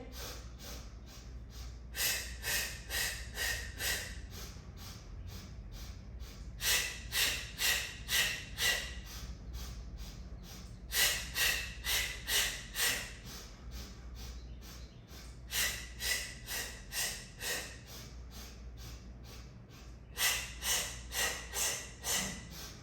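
Steady rhythmic breathing during a pilates abdominal workout, with clusters of short, audible breath pulses repeating in regular bursts about every four to five seconds over a low background hum.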